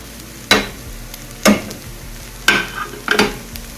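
Chicken and spice powders sautéing in a pan: four sharp spatula scrapes and stirs, spaced about a second apart, over a faint low sizzle.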